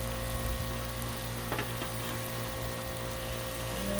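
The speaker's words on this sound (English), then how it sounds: "you see how quickly shrimp cooks up" Shrimp fry on a Blackstone griddle with a steady, even sizzle throughout, close and moderately loud, with a faint underlying hum.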